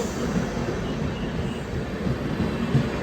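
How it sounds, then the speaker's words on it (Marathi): Steady low rumble of a Jammu Kashmir train rolling into Jammu Tawi station nearby, a continuous heavy mechanical drone with no talking. "ट्रेन आलेली आहे जम्मू काश्मीरची"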